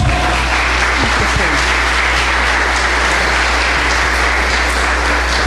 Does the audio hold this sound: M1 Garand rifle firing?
no